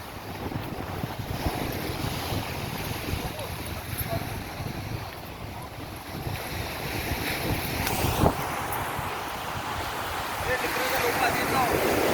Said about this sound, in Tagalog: Dadong malakas ang alon